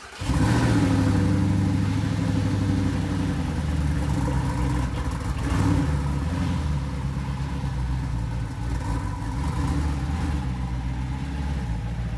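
A damaged manual Audi R8 engine with a cracked piston runs rough and loud while the car backs out, a continuous low rumbling drone with uneven surges throughout.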